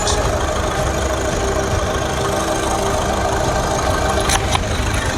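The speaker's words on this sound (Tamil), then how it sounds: "இப்போ பார்த்தீங்கன்னா வண்டியோட இன்ஜின் சவுண்ட் இக்னிஷன் பண்ணலாம் வாங்க." A 2016 Skoda Rapid 1.6 TDI diesel engine idles with a steady, dense rumble and a fine rhythmic clatter, heard loud and close throughout with a brief click near the end.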